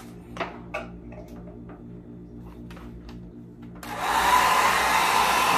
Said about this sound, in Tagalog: I-blower natin buhok mo para matuyo.